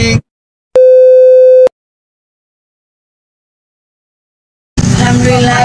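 An unanswered call to a call centre gives one long electronic tone burst, ringback or busy signal, between stretches of silence, cut off near the start and end by short bursts of noisy sound.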